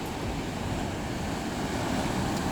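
Steady broadband rushing of wind and sea surf fills the whole stretch during a DJI Mini 2 drone range test, a constant wash without distinct breaks or voices.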